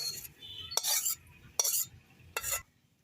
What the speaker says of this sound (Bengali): এর আমি কাঁঠালের আটির সাথে ভালো করে মাখাই নেব।